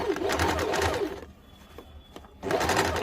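A sewing machine stitches a blouse in two bursts of rapid, rattling needle pulses, loud and close, with a pause of near quiet between them and no talk.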